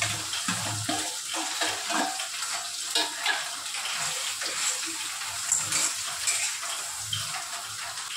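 Potato pieces added to hot oil with chillies, frying for sabudana khichdi, crackle and sizzle in a continuous close bubbling hiss with occasional spatters, no voices.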